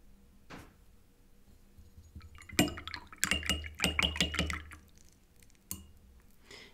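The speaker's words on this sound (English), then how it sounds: "So I'll rinse off my dirty water here and then get clean water here." A watercolour paintbrush swished and tapped in a glass of rinsing water, a few scattered drips and then a quick run of close clinks and splashes, followed by a lone later tap.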